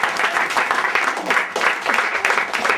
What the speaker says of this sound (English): give a round of applause to Eddie